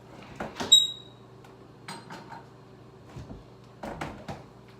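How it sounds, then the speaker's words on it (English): The left door of a kitchen fridge squeaks with a brief high chirp as it is pulled open, followed by soft rattling, knocks and clatter in a quiet room over a steady low hum. "my fridge makes a squeaking noise whenever I pull open the left side"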